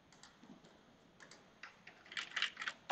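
Keys tapped on a computer keyboard while writing in a document, a sparse run of light clicks building into a quicker, louder burst of close typing near the end, with no voices.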